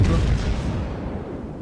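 Naval guns firing in the game World of Warships, a heavy low boom at the start that settles into a rumbling tail of distant gunfire and battle noise.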